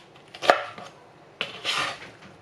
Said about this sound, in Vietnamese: Rồi thơm thì cũng cắt ra luôn.